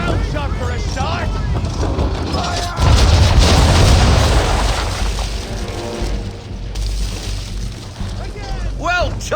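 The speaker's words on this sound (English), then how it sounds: "Bring her round broadside, and when all guns are on target, call fire." Ship cannons fire a broadside in Assassin's Creed III, a heavy booming burst rolling out over churning water and wind, loud and sustained for several seconds, with voices speaking around it.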